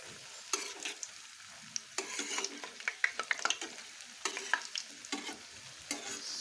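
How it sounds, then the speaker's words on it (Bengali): Urad dal fritters for rasbora fry in hot oil with a steady, fairly quiet sizzle, broken by light clicks and scrapes as they are stirred and turned, close up and without talk. "এইভাবে করে আমি সব বড়াগুলো ভেজে নেব।"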